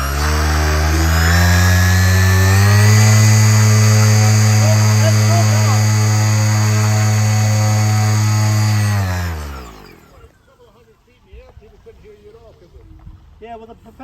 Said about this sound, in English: the propeller still makes noise, but yeah, it's definitely quieter